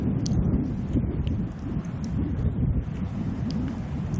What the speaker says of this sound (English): this wind howling off the left, and we just felt a huge gust up by the green